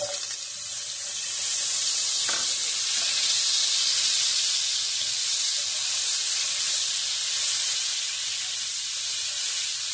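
Butter melts and sizzles in a pan already coated with olive oil, ready for garlic butter shrimp, producing a loud, continuous hiss that holds steady throughout with no talking.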